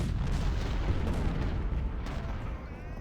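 Artillery cannon fire in the Civil War strategy game Ultimate General: Civil War rumbles in dense, overlapping booms, a continuous distant barrage rolling on without any voices.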